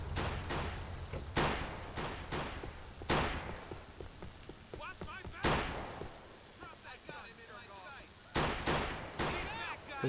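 Gunfire in the LCPDFR police game. Several sharp, loud shots crack at irregular intervals, some in quick pairs, while a siren's yelp warbles faintly between them.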